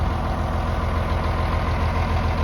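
A John Deere 5010 tractor idles after a cold start, a steady, loud, low diesel rumble that stays even and close with no change in pace.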